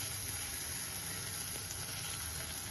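Ginger garlic paste sizzles in a frying pan over sautéed onions for a mushroom gravy, a steady close crackle and hiss that carries evenly throughout with no talking.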